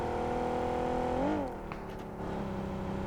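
A sustained engine drone with a brief rising-and-falling pitch sweep midway, like a car revving in a game, steady and loud with no talk.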